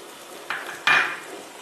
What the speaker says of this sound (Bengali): বাটিটা ধুয়ে একটু জল দিচ্ছি।